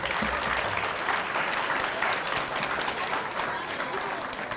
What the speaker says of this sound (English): Let's give the graduates one last round of applause.